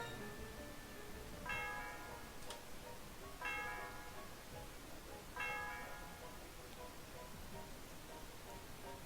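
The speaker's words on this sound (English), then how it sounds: "The sound of the bell reverberates throughout the area." The Celestial Tower bell in a Pokémon video game rings three times at steady intervals, each strike a clear resonant tone fading out, faint over a soft noisy background with no speech.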